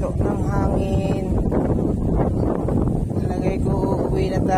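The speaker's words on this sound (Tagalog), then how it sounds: "Ay, at ayaw nang huminto ng hangin." Strong, unrelenting wind at an outdoor fishing spot buffets the microphone in a loud, continuous rush, with faint voices mixed into the roar.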